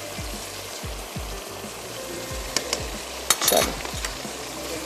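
Onion, tomato, curry leaves and mustard seeds frying in oil for daal, a steady close sizzle with occasional stirring scrapes of a utensil against the pot and a brief spoken word.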